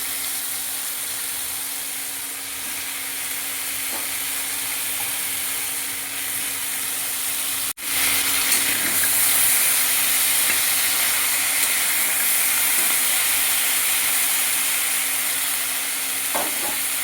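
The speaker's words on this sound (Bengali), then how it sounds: "আলু প্রায় ভাজা হয়ে গেছে, এবার আমি শিমগুলো দিয়ে দেব।" Potatoes and beans fry in a pan with a continuous hissing sizzle, interrupted once by a sharp clatter partway through before the frying carries on, with no one talking.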